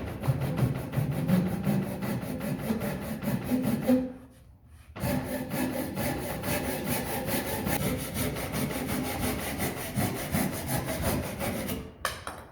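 A hand saw rasps through roof frame timber in rapid back-and-forth strokes during carpentry licence practice, loud and close, with a brief pause before the sawing resumes.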